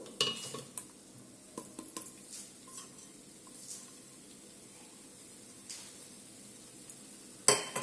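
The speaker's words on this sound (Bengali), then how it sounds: "দেখুন কত সুন্দর আমি ইজিলি নাড়াতে পারছি।" Chow mein vegetables are stirred in a large pan with faint scraping and clinking of a utensil, soft and intermittent, with a sharper clatter near the end.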